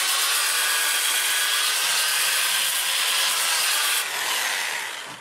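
Sandpaper rubs against a spinning flame maple burl on a wood lathe, a loud continuous hissing abrasion close by that shifts in tone partway through before easing off.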